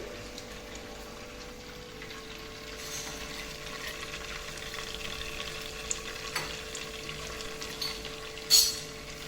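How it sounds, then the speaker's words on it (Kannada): Cumin seeds dropped into hot butter, ghee and oil for dal khichdi, a soft steady frying sizzle with faint stirring, growing a little busier near the end. "ಬೆಣ್ಣೆ, ತುಪ್ಪ ಮತ್ತೆ ಎಣ್ಣೆ ಕಾದು ಆ ಸ್ಮೆಲ್ ಬರ್ನ್ ಆದಮೇಲೆ ನಾವು ಇವಾಗ ಜೀರಿಗೆ ಹಾಕ್ತಿದ್ದೀವಿ"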